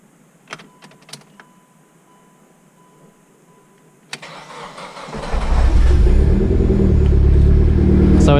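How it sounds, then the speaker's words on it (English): A car engine cranked with a Noco GB40 lithium jump starter: faint clicks and a short mechanical clunk, then the engine catches and settles into a loud, steady idle close by. "So this means now that I should be able to start the car."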